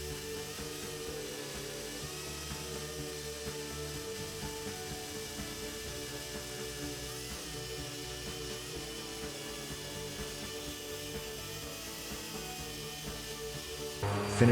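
A two-speed sander doing final sanding on a repaired plastic headlamp, giving a steady, moderately faint motor whir with a rough abrasive hiss that continues evenly throughout, ending with a brief louder bump.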